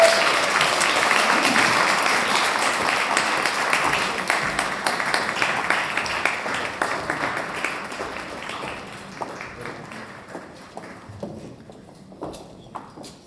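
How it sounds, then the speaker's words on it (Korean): Audience applause at an English academy's vision ceremony as teachers walk onto the stage, a dense wash of clapping that stays loud for several seconds, then thins into scattered claps and fades toward the end. "선한 영향력을 가진 우리 미래의 리더들을 양성하는 우리 선생님들이 나오시고 계시는데 큰 박수 부탁드리도록 하겠습니다."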